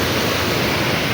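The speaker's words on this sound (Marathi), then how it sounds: "ओव्हरफ्लो झालं आहे पाणी, सगळं पाणी वाहून चाललं आहे" Dam water overflowing and rushing near Goregaon in the Konkan region, heard as a loud, steady broadband roar of pouring water with no break and no voices.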